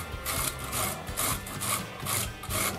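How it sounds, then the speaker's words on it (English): Candied kumquats are grated by hand, producing a close, rhythmic series of rasping strokes, roughly five or six scrapes in under three seconds, with no speech. "We're going to grate some of our kumquats"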